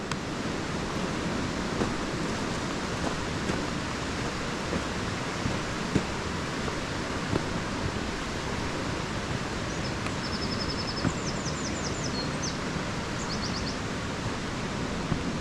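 Waterfall pouring in a steady, dense roar from top to bottom, constant and unbroken, with faint birdsong chirping briefly in the background.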